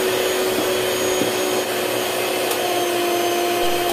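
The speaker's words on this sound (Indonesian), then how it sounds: "kemudian masukkan gulanya yang terakhir di tahapan ketiga, kemudian mixer kembali dengan kecepatan tinggi sebentar saja" Electric mixer beating pandan ogura cake batter at high speed, a steady loud whirring whine with a constant pitch for the full few seconds, close and alone.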